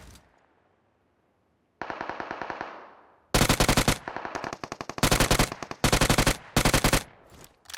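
Automatic gunfire in the video game Fortnite, loud rapid bursts of machine-gun shots separated by short gaps, with a longer sustained burst first and several dense volleys after, alone without talk.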